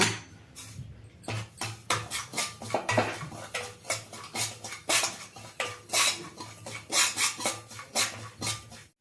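Chiroti rava semolina roasting in a pan while a utensil stirs and scrapes it, giving repeated rhythmic metallic scraping strokes against the pan over a low background hum, close and clear with no talk.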